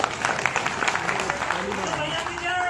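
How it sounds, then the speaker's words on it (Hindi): A crowd at a devotional Shani Dev gathering bursts into applause, a dense, steady patter of many hands clapping that runs through the whole stretch beneath an ongoing speaking voice. "तालियां हो जाए भैया शनिदेव।"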